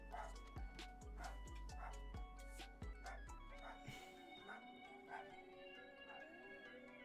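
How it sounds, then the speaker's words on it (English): A pet dog barks in a sharp rhythmic series of about eight loud yaps over the first four seconds, under steady electronic game music that carries on alone afterward. "I can hear my dog barking."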